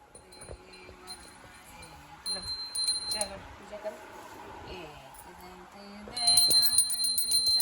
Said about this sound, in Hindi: देखो कैसे घंटी बजा रहा है